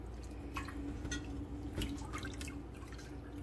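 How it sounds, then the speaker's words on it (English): Water dripping and trickling while goat's milk cheese curds are rinsed for Colby cheese, a close, steady wet patter with small splashes over a low background hum. "So this is just kind of like a rinsing"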